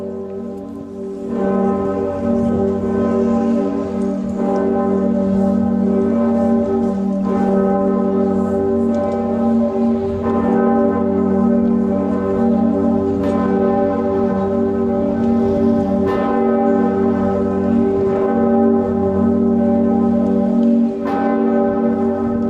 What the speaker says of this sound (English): Pretiosa, also at Cologne Cathedral in Germany, cast in 1448 by the Heinrich Brodermann and Christian Kloit Bell Foundry.